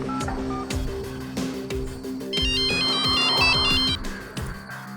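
A phone rings while a call is being placed, in a tense drama scene: a repeating electronic ringtone comes in partway through over background music, fairly loud and close.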